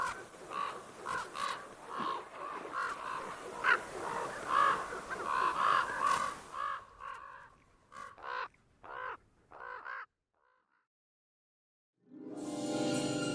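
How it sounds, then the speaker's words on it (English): Ravens caw repeatedly near a bear's food in Yellowstone, harsh calls overlapping in a busy cluster, then fewer separate caws, a short silence, and a burst of noise at the end. "Except for the pesky ravens."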